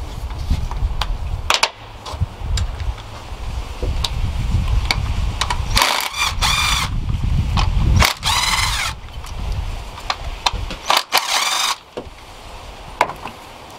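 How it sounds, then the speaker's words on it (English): A ratchet loosening the 10 mm bolts holding the ignition coil packs on a Nissan 3.5L V6 VQ35DE engine, with repeated close, loud bursts of rapid clicking separated by brief pauses and handling noise. "Now we can go on ahead and remove the coil packs."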